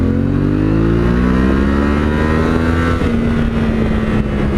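A 2020 Yamaha Tenere 700 motorcycle engine holds a steady, loud close-up drone while downshifting, its pitch sliding as the gears change and the revs climb, heard alone without talk.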